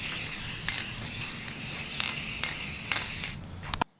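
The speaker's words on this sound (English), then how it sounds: "I'm just gonna kind of spray this all over for good measure." A steady aerosol spray of primer filler hissing continuously at close range onto a 3D-printed clone trooper part, with a few brief clicks of the nozzle, stopping abruptly near the end.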